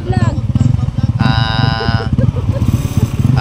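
A Honda CRF 250cc motorcycle rides a muddy road after rain, its engine throbbing loudly and close in a fast pulsing rhythm with a rising whine, and voices can be heard partway through.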